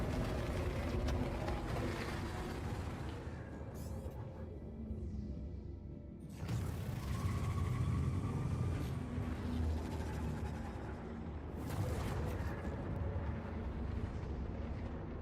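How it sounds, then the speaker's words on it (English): Engines of a vehicle in a video game rumble continuously and loudly, a dense broadband roar that swells and dips in waves, with no talking over it. "Engines on this thing sound so cool."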